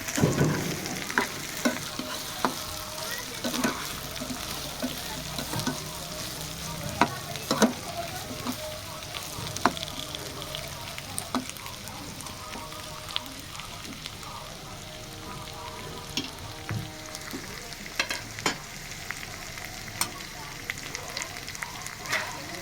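Capsicum pieces frying in a pan for an egg curry, stirred now and then. A steady moderate sizzle carries on throughout, broken by scattered sharp clinks and scrapes of the spoon against the pan.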